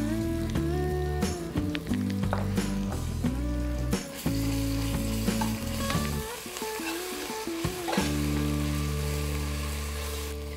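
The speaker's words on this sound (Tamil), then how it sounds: "இஞ்சி பூண்டெல்லாம் வதங்கிருச்சுங்க" Ginger, garlic and green chilli paste fries in a pan for mushroom biryani, a continuous sizzle with stirring sounds under loud background music.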